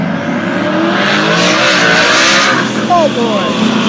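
A Ford Mustang race car roars down the drag strip at Rocky Mountain Speedway during a midnight drag event, a loud, sustained engine blast with wide-open throttle and a brief squeal near the end.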